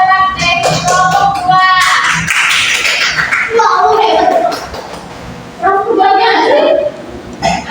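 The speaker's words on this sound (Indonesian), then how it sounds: "berikan tepuk tangan untuk anak-anak dari kelompok" A children's group in a religious studies class gets a round of clapping that rises and fades in bursts, mixed with lively chatter and children's voices talking over it.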